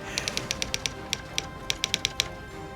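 Rapid, crisp keystrikes of a vintage typewriter in quick bursts, a run of about seven clacks, a pause, then another cluster, close and fairly loud over a low steady background hum.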